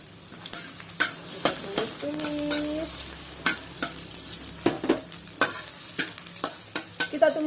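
Garlic and shallots sauté in a pan, a soft continuous sizzle broken by repeated sharp scraping clicks of a utensil stirring, close and moderately loud, without speech.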